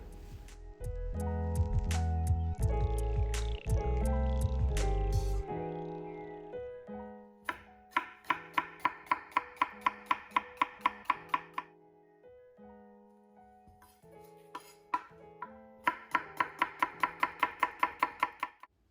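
A kitchen knife chopping vegetables on a cutting board for ginger dressing, first a low rumbling stretch, then quick runs of crisp, evenly spaced chops close up, pausing between bursts, with no talking.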